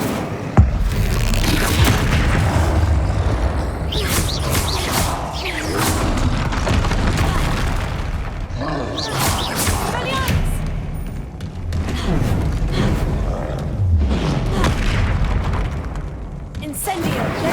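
Repeated fiery blasts of the Incendio spell in Hogwarts Legacy, heavy booms and bursts recurring over a dense rumbling game mix with voices.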